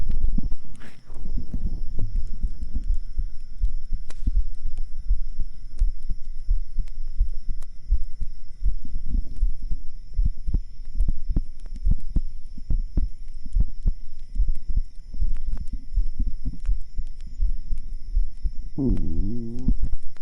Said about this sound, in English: Can you guys hear the heartbeat?